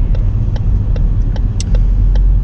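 A car engine hums and rumbles steadily from inside the cabin while driving, with faint clicks and ticks scattered over the drone and no speech.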